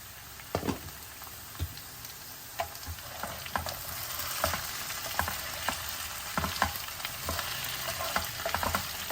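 Potato pieces for aloo fry sizzle steadily in a pan, with a continuous frying hiss broken by occasional stirring clinks and scrapes; no one speaks.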